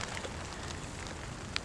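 Steady rain falls during a pepper and round eggplant harvest outdoors, a soft, continuous patter and hiss, with a couple of sharper drops or taps near the end.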